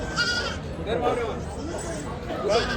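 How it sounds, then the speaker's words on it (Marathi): Several young goats bleat in short, wavering cries near and far, overlapping with people chattering in the background. "ही करडं शेळ्यांसोबत दिलेली आहे."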